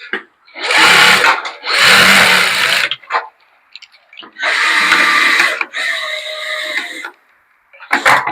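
A sewing machine stitches a scalp model from nape to nape in loud, close bursts of motor whir, two long runs, a pause, then two more runs and a short start at the end.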